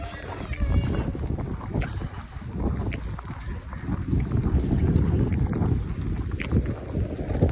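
Strong gusty wind during snowfall in Sapporo, Japan, buffets the microphone in loud, rumbling bursts that rise and fall continuously, with faint voices underneath.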